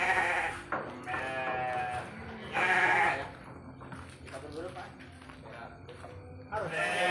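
Male sheep bleat in a pen on a sheep farm, several loud calls rising over steady background chatter and farm noise, with people talking nearby.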